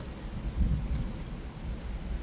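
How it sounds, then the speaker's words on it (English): Light rain drizzles over a garden outdoors, a steady soft hiss with a low rumbling undertone throughout. "it looks like the rain is just drizzling now"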